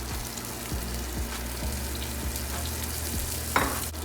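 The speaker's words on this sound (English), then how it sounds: "Be careful when you're adding more oil to a hot pan. It's just gonna sizzle." Oil sizzles and crackles steadily in a hot pan as more oil is added while making enchiladas, close and continuous, with a sharper spatter near the end and a few faint low knocks.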